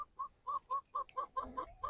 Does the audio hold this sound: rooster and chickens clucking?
yes